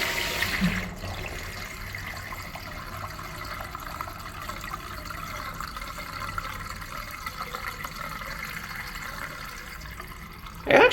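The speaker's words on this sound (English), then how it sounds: "The water drains super quick, and it kind of gurgles a little bit sometimes." An American Standard Pintbrook urinal flushes and drains in a restroom, a steady faint rush of running water lasting several seconds with a brief louder burst at the very end.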